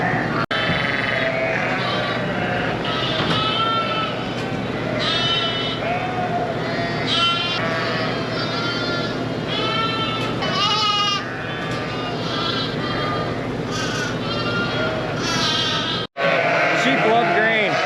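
Lambs bleating in a barn during winter, many overlapping high bleats from several animals close by, nearly continuous and loud, ending with a brief break and a final bleat.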